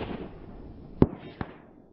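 A Phoenix .22 LR pistol fires one sharp shot at a target at about 160 yards. A fainter crack follows a moment later, likely a hit or echo, against quiet outdoor background noise.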